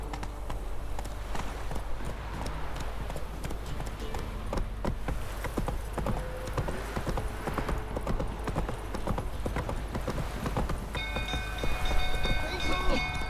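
Hooves of Roach, Geralt's horse in The Witcher 3: Wild Hunt, clop in a steady trotting rhythm throughout, with game ambience and brief bright tones layered near the end.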